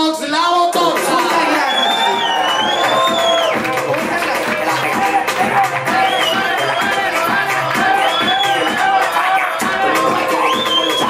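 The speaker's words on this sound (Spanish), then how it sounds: "Fuerte aplauso para Stephanie Fox, la Botota" A lively crowd at a birthday party show cheers, whoops and shouts nonstop, with scattered clapping buried under the dense, loud mix of excited voices.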